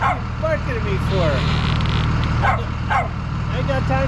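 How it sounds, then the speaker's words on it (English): A dog barks and yips a few times over a steady engine hum, with a person talking in between. "What are you barking at me for?"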